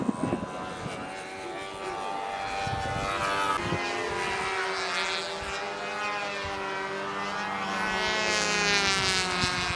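P-51 Mustang model airplanes at the model aircraft nationals, small engines droning with rising and falling pitch as they circle a flight line, loud and continuous with a few knocks at the start.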